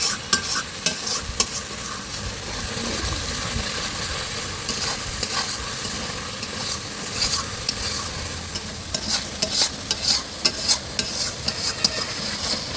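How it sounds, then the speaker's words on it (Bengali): Ginger paste and milk being sautéed in a pan, a continuous sizzle and fry with scraping stirs and occasional spoon knocks against the pan, close and steady with no talking. "এবার এই আদা বাটাটার সঙ্গে এই দুধটা দিয়ে দিলাম এটা ভালো করে কষা হোক"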